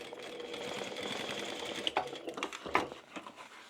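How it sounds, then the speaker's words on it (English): A sewing machine stitches a small flap-style bag, its steady whirring run going for several seconds before a few sharper clicks and bursts near the end as the fabric is guided. "Then we can bring that around to line up with the bottom like that and continue sewing."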